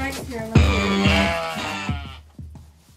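A sheep gives one loud, drawn-out bleat as it is wrestled to the ground for shearing, with thuds and scuffling around it and a faint voice in the background.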